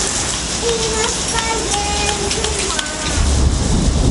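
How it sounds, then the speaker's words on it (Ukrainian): Rain falls steadily during a bicycle trip in Turkey, a dense continuous hiss that grows heavier near the end, while faint tonal sounds drift over it. "Сподіваємося, що зараз дощ взагалі перестане"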